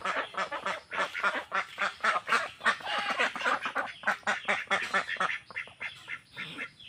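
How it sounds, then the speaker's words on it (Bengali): Ducks raised in a rural village setting quack repeatedly in a dense, continuous chorus, close and loud, with rapid overlapping calls and no voices. "দেখেছেন দর্শক, খুব সুন্দর হাঁস।"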